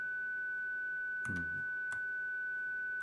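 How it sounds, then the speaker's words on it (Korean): A steady 1500 Hz sine test tone plays at -24 dB from Logic Pro. It runs as one continuous pure pitch, broken only by a couple of brief knocks or clicks. "1500Hz 사인파를 마이너스 24dB로 출력을 하고 있어요."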